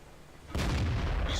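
A tank cannon fires in World of Tanks, a single loud, sudden blast partway through that rolls into a sustained low rumble after a quiet lead-in.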